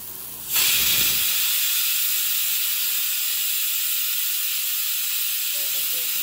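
Malvani amboli batter hits a hot oiled nonstick pan, starting a steady, loud sizzle that holds evenly after a sudden onset, with no talk over it.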